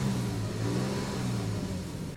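A Honda Passport accelerating, its engine droning in a steady mid-pitched hum with a faint rising whir, heard from inside the cabin, continuous and moderately loud.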